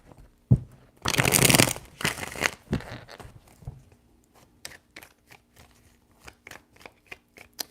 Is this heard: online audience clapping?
no